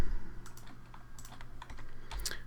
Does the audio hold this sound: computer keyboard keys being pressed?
yes